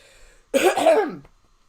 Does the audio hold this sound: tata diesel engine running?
no